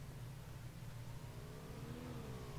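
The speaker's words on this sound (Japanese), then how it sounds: "車の音、" A car engine from the PUBG video game hums at a steady, faint level with a slight rising whine, heard at a distance under constant background noise, with no speech.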